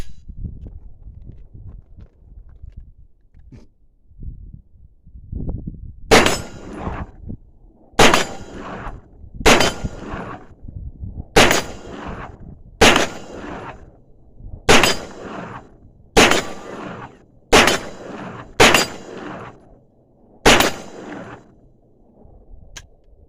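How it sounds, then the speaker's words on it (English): A SAR 9 AR-style 9mm rifle fires eleven sharp, loud shots outdoors at an uneven, unhurried pace, each crack followed by a short decay, with soft shuffling before the first shot. "Take a few shots real quick."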